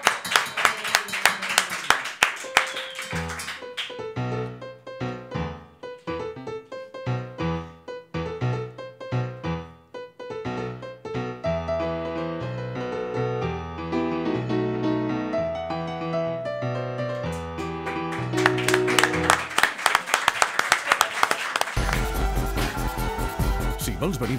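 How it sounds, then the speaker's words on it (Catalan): Studio audience applause at a Catalan radio comedy show, bursts of clapping at the start and end framing a stretch of music with a steady beat. "Un aplaudiment per ella i per la Neus."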